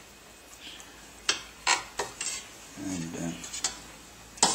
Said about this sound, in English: So now the idea now is to just stir the honey through.